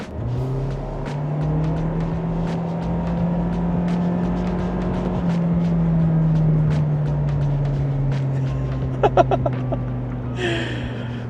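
A 2024 Toyota Prius in sport mode on open road, its engine and CVT droning steadily with a gently rising and falling hum, close inside the cabin, with a few faint clicks near the end.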